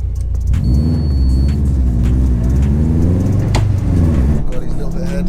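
A 465 bhp Subaru Impreza WRX STI and a 480 bhp Audi RS3 accelerate hard side by side in a roll race, loud sustained engine roar climbing in pitch with a gear change partway through, close to the microphone, with people talking over it.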